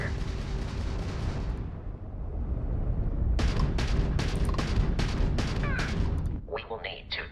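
A Crimson Fleet ship opens fire during ship combat in Starfield. A rapid run of sharp, heavy weapon blasts cuts through a steady ambient drone, followed by a few quicker, lighter bursts near the end.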